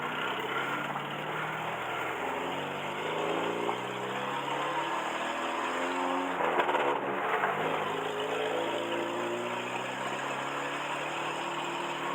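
A carbureted Mercedes W115 engine that had not been started in three years runs steadily, holding an even drone throughout with a slight swell in the middle, heard up close with no talking.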